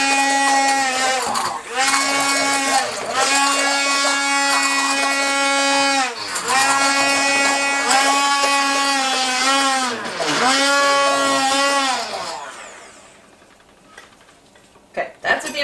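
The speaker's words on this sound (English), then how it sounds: "that's with the immersion blender" An immersion blender purees butternut squash in several loud whining bursts separated by brief pauses. Its motor pitch rises and dips with each push before the whir cuts out, leaving near quiet.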